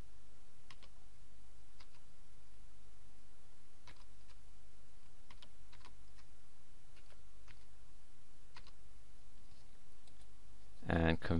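Computer keyboard keys tapped as a password is entered, sparse scattered clicks at a moderate distance over a quiet hum, ending in a short louder burst.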